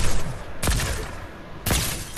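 Assault rifle fire in Fortnite: two sharp, loud bursts of shots about a second apart, each with a short ringing tail, over a noisy game background.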